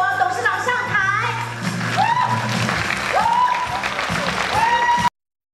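An audience at a formal ceremony claps steadily and densely for several seconds to welcome a foundation chairwoman to the stage, with rising tonal sounds over the clapping before it cuts off abruptly.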